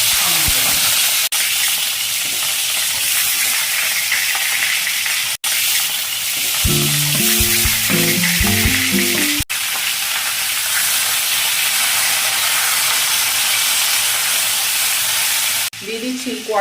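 Black mustard seeds and whole dried red chillies tempering in hot mustard oil, a loud constant crackling sizzle close by, interrupted briefly by a few sharp clunks and some rattling handling noise midway.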